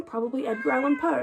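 A pet cat meows indoors in several drawn-out cries while a person keeps talking over them.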